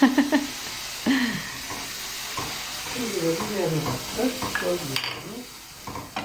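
A pot of green tomato stew sizzles steadily as peppers go in, with stirring clatter and pan knocks near the start, and a voice speaks over the frying.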